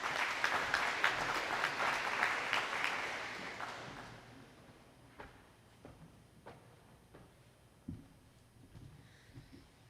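An audience claps at a school prize day ceremony, with full applause for about four seconds before it fades to a few scattered claps and shuffling in the room.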